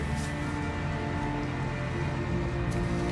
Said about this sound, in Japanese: あー悲しいよ。 雨。